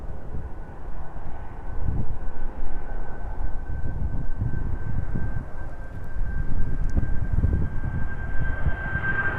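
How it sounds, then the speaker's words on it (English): An aircraft departing from East Midlands Airport, heard as a steady, rumbling jet roar with a thin high whine running through it, growing slightly louder toward the end, with no talking. "Next aircraft to depart is making its way down towards us now"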